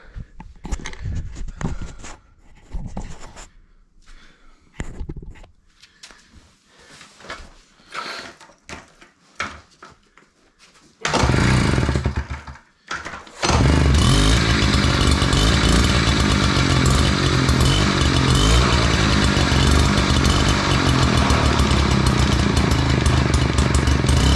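Old mobylette moped pulled out of long barn storage, its small two-stroke engine sputtering and stalling in the first half, then catching and idling steadily and loudly close by until the end.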